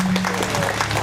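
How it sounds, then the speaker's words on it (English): Audience at a school debate open day in Kiribati claps in a brief, even burst of applause, fairly loud and continuous with a faint hum beneath. "Can we give them a big applause"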